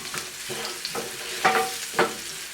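Shallots sizzle in oil in a pan with salt and pepper, a close, steady frying hiss broken by several distinct scraping strokes of a utensil stirring them.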